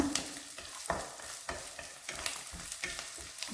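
Spices fry and are stirred in a pan for a spicy khara condiment, with a soft continuous sizzle and repeated light scraping taps that sound faint and close, with no talking.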